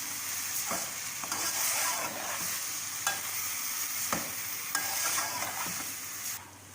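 Samosa filling fries in a pan with a steady, close sizzle throughout, broken by faint scrapes of stirring and a slight drop in the hiss near the end.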